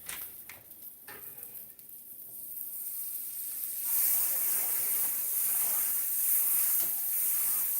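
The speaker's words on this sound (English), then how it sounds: "So now I'm going to add my butter to the pan." Butter hissing and sizzling in a hot pan for blueberry pancakes, quiet at first, then a steady, fuller frying hiss that carries through the second half.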